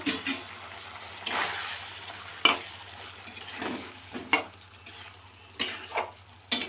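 Eggs dropped into a pan of simmering egg curry, a steady low bubbling and stirring hum broken by several sharp clinks and scrapes of utensils against the pan, close and moderately loud with no talking.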